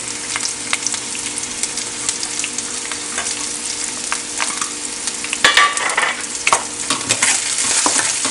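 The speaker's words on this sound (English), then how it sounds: "Add in the fenugreek seeds and the ginger" Fenugreek seeds, ginger and garlic sizzle steadily in hot oil, with scattered crackles and pops and louder stirring scrapes in the pan toward the end.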